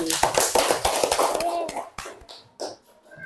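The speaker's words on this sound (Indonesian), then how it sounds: "Tepuk tangan." A class of children claps hands in a brief burst of sharp, close taps, mixed with children's voices, then trails off into a few scattered claps.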